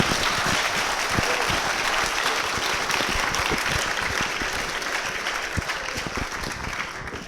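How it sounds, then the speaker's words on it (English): Sustained applause from the audience at the BAPC 2018 programming contest award ceremony, a steady dense clapping for the volunteers that holds at an even level throughout with no talking over it. "So applaud them, please."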